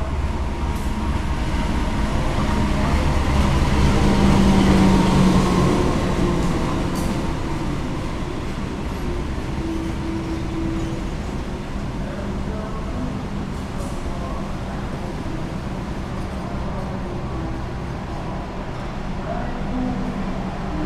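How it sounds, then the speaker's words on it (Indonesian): The Bangunkarta passenger train pulls into Jombang station with a steady, loud rumble of rolling cars and a sustained low drone, a faint squeal at the start and soft voices now and then. "itu tadi yang baru masuk adalah rangkaian kereta api Bangunkarta yang akan saya naiki"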